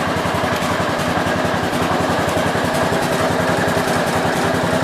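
Engine of a 1967 430 tractor runs steadily at close range during a charging system test, a loud continuous throbbing idle with an even mechanical pulse throughout and nobody speaking.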